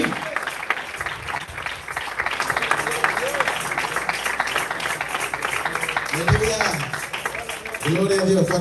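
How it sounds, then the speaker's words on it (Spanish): A church congregation applauds during a service, sustained clapping filling the room at an even level while voices speak and call out over it, ending with someone talking more clearly near the end. "El aplauso es para Cristo Jesús"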